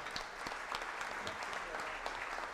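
Audience at a formal legislative session in Brazil applauding a federal deputy invited to the stage, a steady distant wash of many hands clapping, faint and reverberant in a large hall.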